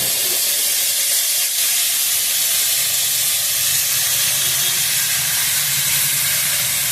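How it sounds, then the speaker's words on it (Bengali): Steady, loud, dense hiss of an onion, ginger and garlic spice paste sizzling in a hot pan, close and unbroken throughout. "পেঁয়াজ আদা রসুন সব ফ্যাটো করে রেখেছি এই ফ্যাটো মশলাটা এবার দিয়ে দেবো"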